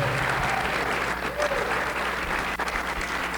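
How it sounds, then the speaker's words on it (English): Sports hall of fame audience applauding an honoree, a dense, steady wash of many hands clapping throughout at close range, with faint voices underneath. "Let's clap it up for her one more time."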